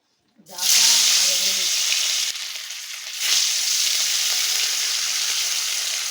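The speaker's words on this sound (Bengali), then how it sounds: "হালকা একটু ভেজে নেবো, খুব বেশি ভাজবো না।" Maya fish lightly frying in a home kitchen pan, a loud, steady sizzling hiss that bursts in suddenly and keeps going, with a brief voice near the start.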